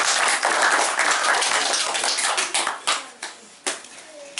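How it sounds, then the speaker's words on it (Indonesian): Applause from an indoor audience at an Indonesian religious talk, dense clapping at first that thins into scattered separate claps toward the end. "Tepuk tangan untuk Anda."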